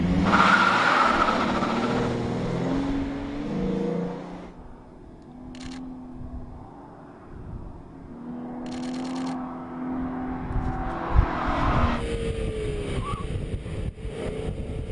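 A Ford Mustang driven a full lap backwards on a two-mile road course in reverse, its engine whining and droning through changing pitches, loud at first, then dipping and building again, with no talk.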